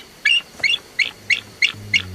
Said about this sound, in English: just listen to these bald eagles